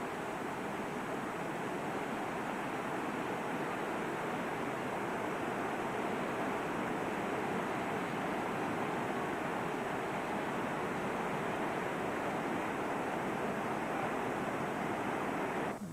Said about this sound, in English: Rapids of the Nenana River.